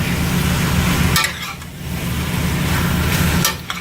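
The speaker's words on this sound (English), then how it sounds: "Now we're just browning the meat right now, searing it." Beef stew meat sears and browns in a pot over high heat, giving a steady loud sizzle with a low rumbling hiss that briefly dips and then resumes, and no talking.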